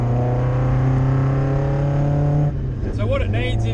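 Toyota AE86 street car engine under way, a loud steady droning hum with strong low harmonics that shifts as a voice speaks over it near the end.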